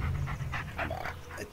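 Bullet, a dog in the Blair Witch video game, pants in quick, rhythmic breaths close by, a steady run of short huffs with no other sound.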